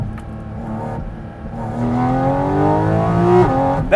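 Loud, close intake roar from a 2022 Porsche Cayman GT4 RS engine, revs climbing steadily, briefly dropping, then blipping up again at the end, heard alone with no talk.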